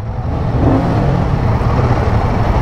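A Royal Enfield Himalayan 450 motorcycle idles with its short-stroke engine running, a loud, steady low rumble with a slight rise in revs, and other motorcycles roar nearby.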